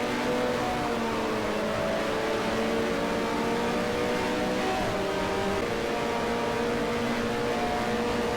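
Several racing engines from a 1974 Formula 1 season Brazil round in the F1 Challenge game drone together steadily, a continuous layered whine that holds level throughout with no voices.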